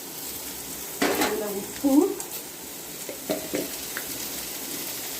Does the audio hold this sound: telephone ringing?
no